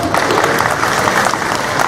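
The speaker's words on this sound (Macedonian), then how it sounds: "голем аплауз" Brief burst of steady, energetic applause from a crowd at the opening of an exhibition, loud and close with continuous clapping.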